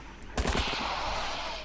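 Rifle fire in the video game Dino Hunter Deadly Shores: a quick burst of several rapid gunshots followed by a short ringing decay, moderately loud.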